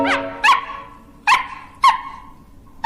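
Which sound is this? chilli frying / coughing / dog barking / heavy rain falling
dog barking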